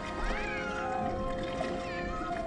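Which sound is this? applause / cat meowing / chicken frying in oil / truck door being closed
cat meowing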